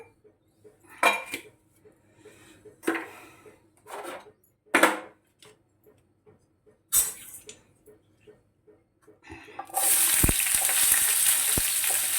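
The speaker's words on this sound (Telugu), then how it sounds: "టమాటా వేసి ఉల్లిపాయ పచ్చిమిర్చి టమాటా పాన్ పెట్టాను." Pans and utensils clatter in several separate knocks, then tomato, onion and green chili hit hot oil in a pan and a loud, continuous sizzle takes over with a few stirring clanks, all without speech.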